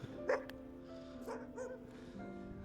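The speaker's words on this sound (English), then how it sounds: "These dogs are like barking over here." Dogs bark and yip in short bursts some way off, several quick calls scattered over a quiet indoor background with a low steady hum.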